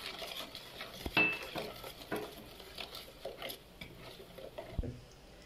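Soft scraping and light clinks of a spoon stirring milk and water in a bowl, irregular and close, fairly quiet with a couple of sharper taps.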